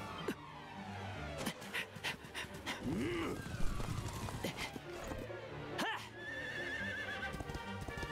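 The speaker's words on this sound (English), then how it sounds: "Some random horses!" Horses neigh and whinny in the Dragon Quest XI video game, with galloping hoofbeats and a busy mix of game effects; a voice comes in briefly under the action.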